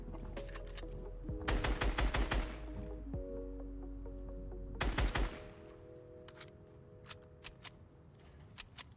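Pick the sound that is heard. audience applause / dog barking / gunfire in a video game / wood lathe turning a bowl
gunfire in a video game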